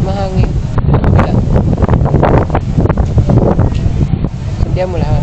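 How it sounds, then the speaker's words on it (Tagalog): Strong gusty wind buffeting the microphone during a ride, a loud continuous rumble with bursts of speech mixed in. "Mahangin."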